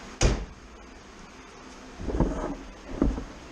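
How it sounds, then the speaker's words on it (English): A Mazda RX-7 FD3S car door thuds shut with a muffled slam against a foam seal, followed by softer rustling and a couple of dull knocks nearby. "And then when you close the door,"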